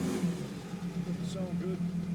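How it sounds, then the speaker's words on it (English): An Audi Q7 engine running rough idles with a low, uneven rumble, then revs up briefly in a rough, unsteady way, with a voice faintly present in the background. "I'm gonna rev it."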